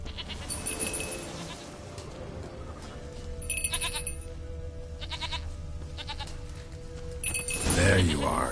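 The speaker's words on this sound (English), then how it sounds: "Here, goat." A goat in The Witcher 3 bleats in several short, repeated calls over game ambience, with a voice speaking near the end.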